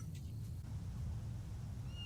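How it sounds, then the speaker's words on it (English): A small cat gives a couple of faint, high meows over a low background hum, fairly quiet and close. "Oh, Kittens."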